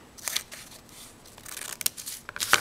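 Scissors snip through origami paper while a bow tie is folded, a few quick close crisp cuts and rustles spaced irregularly, with a sharper cluster of snips at the end.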